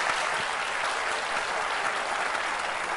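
A studio audience applauds a singer on a Turkish television music show, dense even clapping that fills the whole moment without a break.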